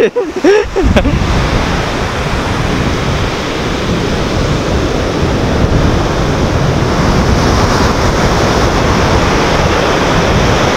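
Ocean waves break continuously on the shore at Parangtritis beach at night, a loud, dense roar of surf with some wind buffeting, after a brief rustle at the start.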